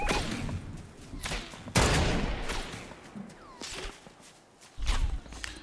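Gunfire including sniper shots cracks out in Fortnite, a few sharp reports scattered over several seconds amid whooshes and footsteps, with one heavier blast standing out.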